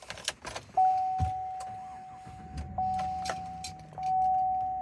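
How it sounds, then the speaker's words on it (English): A GMC Sierra 1500 SLT pickup truck starts up: keys jingle close by, a steady electronic chime tone sounds, and low engine thumps rumble underneath. "We can go ahead and grab the key now, start up our truck"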